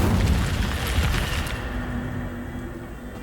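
A burst of the Incendio fire spell in Hogwarts Legacy: a loud, rumbling whoosh that erupts at the start and then fades over about three seconds into a low lingering roar.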